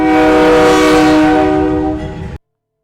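A loud train horn blares in a long sustained chord, close and dominant, then cuts off abruptly near the end.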